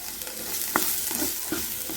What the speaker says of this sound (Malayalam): കളർ മാറുന്നത് വരെ ഇളക്കി കൊടുക്കാം.